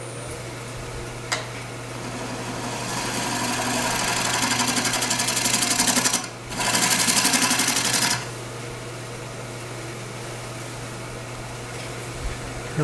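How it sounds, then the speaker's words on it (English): A wood lathe spins a cottonwood burl bowl blank with a steady loud motor hum and a dense whirring rattle, briefly dipping near the middle before settling back to an even drone. "Turn the lathe speed up just a little bit."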